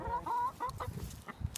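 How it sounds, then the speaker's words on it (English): A hen clucks close by in short, uneven calls with a few rising squawks, fairly quiet over a low background. "Of course, she's not happy."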